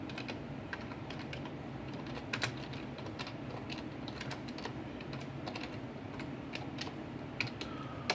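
Typing on a computer keyboard, a quick, irregular stream of soft clicking keystrokes nearby over a faint steady background hum.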